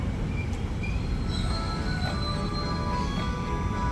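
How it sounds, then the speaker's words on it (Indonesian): A commuter train bound for Jakarta Kota rumbles steadily and loudly into Gondangdia station, with high metallic wheel squeals whining over the heavy rolling noise as it pulls in. "Jalur 1 masuk komuter lain tujuan Jakarta Kota"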